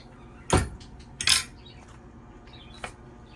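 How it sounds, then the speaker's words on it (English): A metal fork clinks against a dish of oven-roasted vegetables, giving three sharp, close taps spaced unevenly over a few seconds in an otherwise quiet room. "Let me get a fork."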